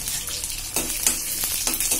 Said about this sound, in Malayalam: വെളുത്തുള്ളി ഒന്ന് വഴണ്ടി വരുമ്പോൾ നമുക്ക് കുറച്ച് ചുമന്നുള്ളി ഇട്ട് കൊടുക്കാം